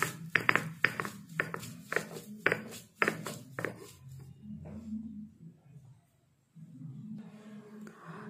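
Herb stems crushed on a traditional ammi grinding stone give a run of about eight sharp, close pounding knocks in a steady rhythm, followed by a quieter low rumble.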